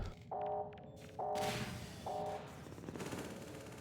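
Automated turrets firing in the Half-Life 2 mod Swelter, fast rattling bursts in short repeated volleys against steady background noise, with tonal beeps between them.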